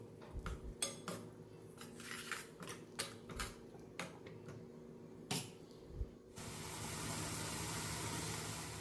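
Tomato paste sizzles and gets stirred in a pan on low heat for a chana masala gravy. Repeated metallic scrapes and taps of a spoon against the pan come through, followed by a steady frying hiss near the end.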